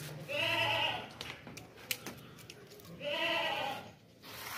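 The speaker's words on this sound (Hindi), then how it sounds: "क्वालिटी वाली अच्छी बड़ी बकरी है माशाल्लाह से, मक्खी चीनी पूर देसी मक्खी चीनी बकरी है" Makhi Cheeni desi goat bleating twice, each call a long, loud, wavering bleat with a quieter stretch of faint knocks and rustle between.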